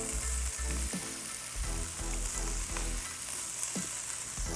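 Yellow onion frying in bacon grease in a skillet, a steady loud sizzle with a few soft stirring knocks throughout.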